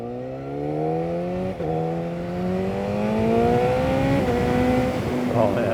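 A Triumph Street Triple or Yamaha FZ1 motorcycle pulling hard, its engine note climbing steadily through two gear changes with brief dips, loud and sustained with no talk.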